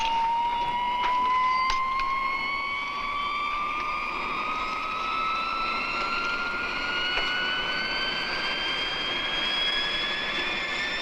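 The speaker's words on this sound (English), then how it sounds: "A low-wing, dual-control jet trainer, powered by 2 turbojet engines." A twin-turbojet jet trainer aircraft roars with a steady high-pitched whine that slowly rises in pitch, loud and continuous throughout.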